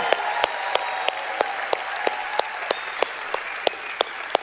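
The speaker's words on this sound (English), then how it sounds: "A round of applause for Jim Caldwell, please" Audience applause for Jim Caldwell at a LifeWave corporate event rolls on as a steady wash of clapping, with a few sharp, louder individual claps standing out at regular intervals.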